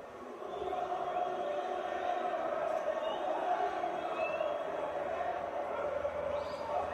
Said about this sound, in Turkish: Tezahüratlar.